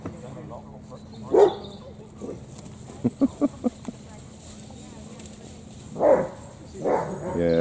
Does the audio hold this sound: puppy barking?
yes